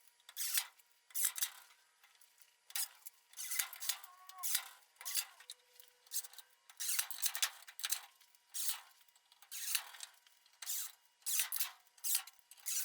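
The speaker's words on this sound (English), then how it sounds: "I secured the flanges to the tabletop with some screws." Screws driven to fasten metal pipe flanges to a wooden tabletop, repeated bursts of a screwdriver or drill whirring in a regular on-off rhythm, close and fairly loud with no talking.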